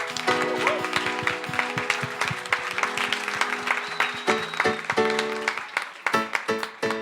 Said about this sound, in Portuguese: Receba também o carinho desta igreja com a salva de palmas, Pastor Laércio.